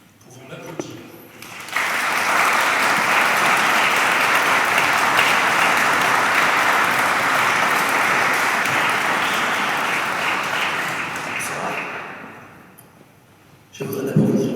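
Sustained applause for a musician at a Saint Cecilia Mass in a church, a full crowd clapping steadily for about ten seconds before fading, with a voice resuming at the end.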